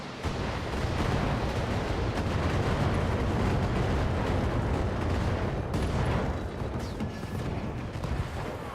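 Long-range missile salvo launched at a mech in Battletech, a dense continuous barrage of rumbling launches and impacts, loud and sustained for several seconds with no talk.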